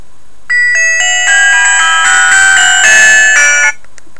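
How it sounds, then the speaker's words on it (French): A Mobiho Essentiel Le Zip Elegant senior slide mobile phone plays a ringtone, a loud electronic melody of bright bell-like tones building in layers for about three seconds before cutting off, with no talking. "on a 5 sonneries disponibles sur ce téléphone"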